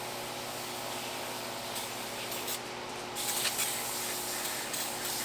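A can of dollar-store oven cleaner sprays as a degreaser on the wheels and brakes of a 1974 Corvette Stingray, making a continuous close hiss with brief louder bursts. No one talks.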